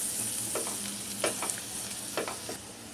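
Onion with red masala and turmeric is sautéed in a pan for egg bhaji: a close, steady sizzle broken by a few scraping stirs, with no talking.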